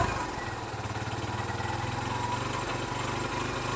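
A Kawasaki Barako motorcycle engine runs steadily after a choke start on a cold morning, a loud, even, low putter that holds without a break for the whole stretch.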